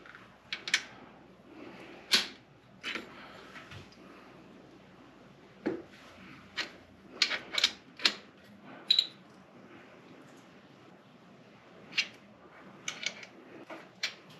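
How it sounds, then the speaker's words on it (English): A torque wrench snugs down scope ring screws on a CZ457 rifle, giving sparse, sharp close clicks and small metallic ticks spread over quiet pauses. "I'm going to torque those down 65 inch-pounds."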